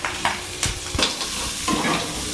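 Chopped onions, cumin seeds and a generous handful of curry leaves sizzle and fry in a pan for egg bhurji, with several scraping stirs cutting through the steady hiss.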